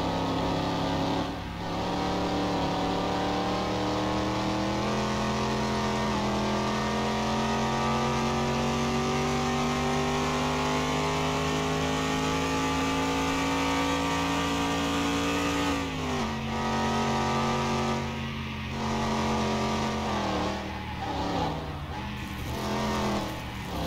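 A 1990 Chevrolet Caprice engine in the video game Car Mechanic Simulator 2021 hums loudly and steadily, its pitch climbing slowly as it revs, then dropping sharply and holding a lower drone.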